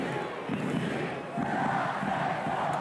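Home crowd at a French Top 14 rugby match between Pau and Stade Francais roaring and shouting in protest for a yellow card, a broad distant mass of voices swelling slightly louder midway.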